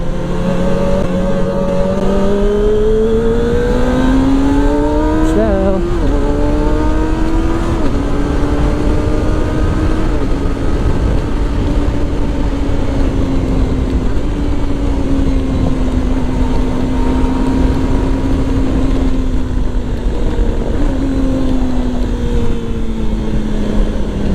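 A motorcycle ride at sunset, with a loud, close engine drone under heavy wind rush. Its pitch climbs through the early gear changes, then settles into a steady cruise.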